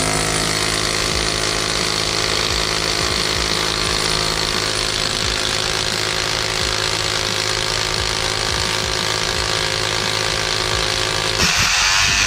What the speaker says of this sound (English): You can use one with the drill bit, or you can use one over there, as you can see, with the chisel bit.